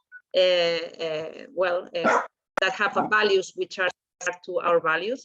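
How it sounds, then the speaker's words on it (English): A dog barks in the background during an online video call, its barks mixed under steady close speech from a person talking. "sorry about my dog."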